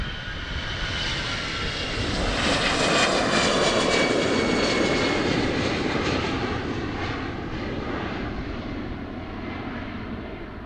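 A KLM Boeing 777 at Amsterdam Schiphol roars past close by, its big jet engines building to a loud, rumbling peak with whistling tones before slowly fading, no voices over it.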